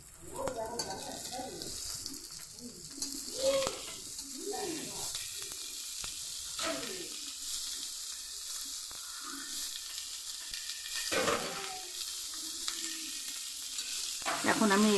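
Spices sizzling and frying in a pan while a spoon stirs them for a Bengali jackfruit curry with goat-fat fritters, steady close hiss with scraping strokes throughout.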